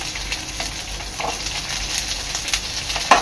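Onion sautéing in a pan for a veg Kolhapuri curry, a steady close sizzle and crackle with occasional stirring scrapes, no voices.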